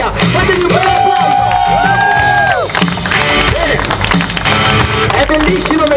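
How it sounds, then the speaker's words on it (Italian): A loud, dense crowd at a comics convention cheers and whoops continuously, with shouting and some clapping mixed into the roar. "Fatemi un bel applauso!"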